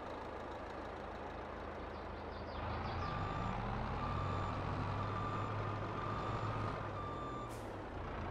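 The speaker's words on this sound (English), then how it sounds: "Let's unload the wheel loader." Wheel loader unloading at an iron mine in Farming Simulator 22, a steady truck engine rumble with repeated reversing beeps and an air-brake hiss near the end.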